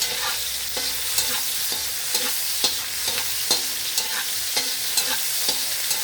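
Dinner dish frying in a pan, with steady soft sizzling and regular spatula taps and scrapes about every half second, close and moderately quiet, no talking.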